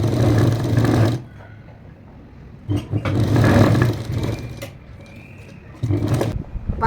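A sewing machine runs in three bursts while stitching a straight pant seam, a steady mechanical whir that starts and stops with short quiet gaps between runs.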